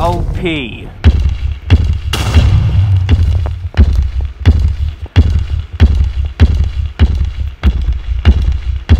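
Fireball explosions in a Minecraft battle burst in a steady series of loud booms, about a dozen heavy thuds spaced roughly half a second to a second apart, with a brief whoosh near the start.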